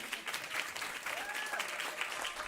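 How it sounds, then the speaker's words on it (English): Steady, moderately quiet applause from an audience as speakers leave the stage, an even wash of clapping throughout. "You can applaud them as they leave."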